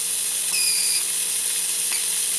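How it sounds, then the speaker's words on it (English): An air compressor running steadily in a workshop, a loud continuous broadband hiss and hum with a faint brief whine rising over it. "You hear my compressor in the background"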